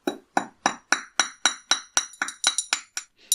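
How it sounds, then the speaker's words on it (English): A small hammer taps wire ends on a handmade wirework pendant cap, about a dozen sharp metallic strikes in a steady, close rhythm, each ringing briefly before the next. "And I just want to carefully hammer those ends."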